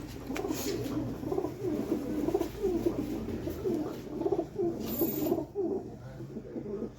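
Pigeons coo repeatedly in a low, rolling rhythm, fairly close, with a steady murmur of background noise and a few faint chirps.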